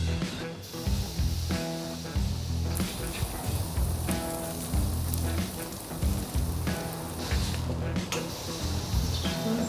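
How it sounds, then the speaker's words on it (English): Steak seared hot and fast on a homemade barbecue grill, a loud continuous sizzle and hiss close by with crackling bursts throughout. "It's time to get a really hot and fast sear on this steak."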